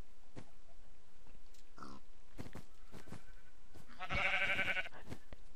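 A sheep in the video game Minecraft gives one clear, wavering bleat near the end, set after scattered clicks and taps of gameplay over a steady background hiss.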